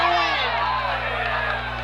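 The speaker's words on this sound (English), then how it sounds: "The crowd's getting amped up." A high school sports crowd at a Curley vs Calvert Hall game cheers and shouts in a steady, loud roar, with children's voices and whoops mixed in.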